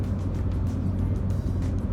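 A car labours up a potholed unpaved village road, giving a steady low engine rumble with bumps and rattles throughout.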